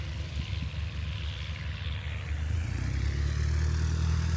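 A small vintage propeller airplane at an air show drones steadily, its engine hum growing louder and nearer toward the end.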